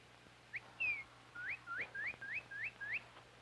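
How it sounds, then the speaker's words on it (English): A bird outdoors at a camp among trees gives a series of clear, rising whistled notes, about eight in quick succession over a few seconds, moderately near against a quiet background hum. "the sound of birds chirping"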